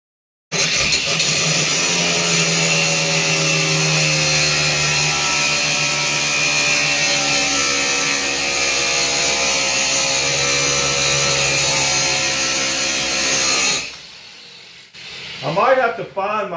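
A cordless angle grinder works on a knife blade in a steady, loud, continuous whine for about thirteen seconds before spinning down, followed by a brief scrape at the end.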